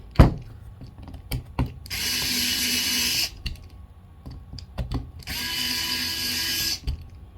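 A power drill runs in two short bursts of high whirring while tightening the screws on a tire ring during an install, with light clicks and taps of handling between them, close and fairly quiet.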